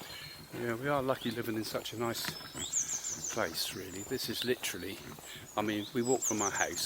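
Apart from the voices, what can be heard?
birds singing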